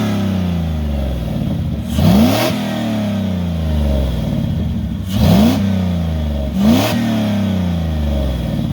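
An LS-swapped G-body car idles with a deep, lumpy rumble, then revs sharply three times in quick rising bursts as it sets off, loud and close.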